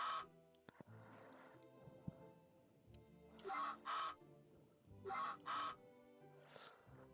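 Ducks in the Story of Seasons: A Wonderful Life farm game give several short bursts of nasal honking quacks in pairs over quiet background music, clear and fairly loud.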